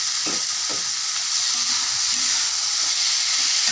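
Ground onion paste sautéing in a pan, a bright continuous hissing sizzle close by with a few faint low knocks of a spoon, steady throughout.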